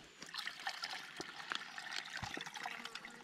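Stream water gushes into a hydration bag during a refill stop, a faint, bubbly trickle with small splashes and gurgles running continuously.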